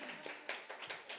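A church congregation at a prayer meeting gives brief applause, faint and distant, with a handful of scattered claps over little more than a second.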